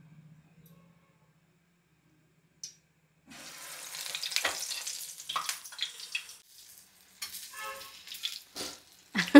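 Coriander bajji batter drops into hot oil and starts frying, a quiet start followed by a steady close sizzle and bubbling that swells and fades in waves.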